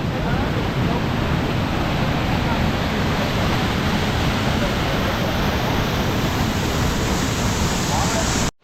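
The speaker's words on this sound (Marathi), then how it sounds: "पाण्याचा आवाज एवढा येता ना विचारू नका एकदम फोर्सने पाणी" A steady, loud roar of water rushing forcefully down a jungle waterfall near Kupavade village fills the whole stretch, dense and unbroken, then cuts off abruptly at the end.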